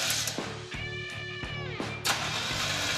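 A 1950 Ford F6 dump truck engine cranks repeatedly without catching, heard as a loud, close, rhythmic chugging of the starter in short pulses that stop and restart a few times, with no voices.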